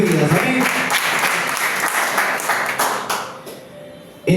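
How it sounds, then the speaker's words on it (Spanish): A church congregation claps loudly at a worship service, a dense burst of applause that thins out and fades toward the end, with some voices mixed in. "Denle un fuerte aplauso porque la palabra de Dios llega a sus vidas."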